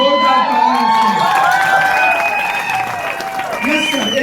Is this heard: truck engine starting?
no